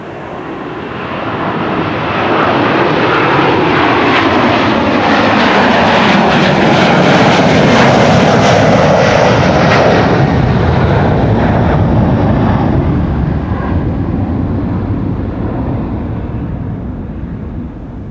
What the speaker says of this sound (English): KLM flight 677 to Calgary